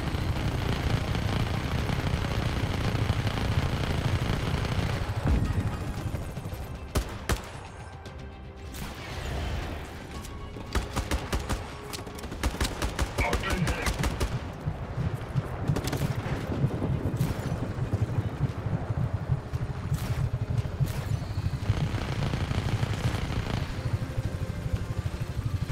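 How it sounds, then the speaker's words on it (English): Heavy bursts of gunfire and rapid machine-gun fusillades in the video game Just Cause, loud and continuous with crashes and engine noise mixed in. "now that's being shot at"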